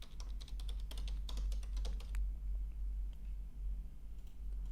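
Rapid clicking of computer keys as a domain name is typed, a quick burst of keystrokes in the first two seconds fading to sparse taps, close and clear over a low steady hum.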